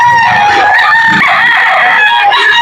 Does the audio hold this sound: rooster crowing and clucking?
yes